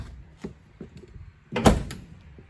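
A door on a 1972 Plymouth Road Runner swings shut with one solid, fairly close thump, preceded by a few small clicks and handling noises.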